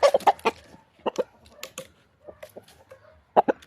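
Heritage chickens clucking close by in a backyard, short irregular bursts of clucks and cackles separated by brief quiet gaps.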